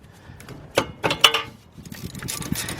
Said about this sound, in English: let's take off our top bolt.